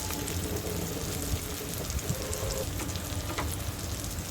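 Tomatoes with green chillies and spices sautéing for chicken biryani in a village kitchen, a steady close sizzle and crackle of frying with occasional stirring scrapes.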